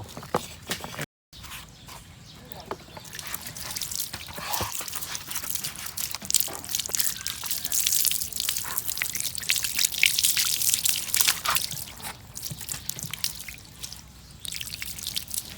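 Eel meat is rinsed in clean water by hand, with intermittent drips, trickles and wet splashes, squelching handling and a brief silent gap near the start, fairly close and without speech.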